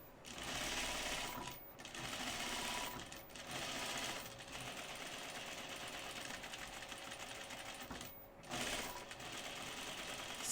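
Home sewing machine stitching around a dress pocket and side seam, loud close whirring in long bursts separated by short pauses.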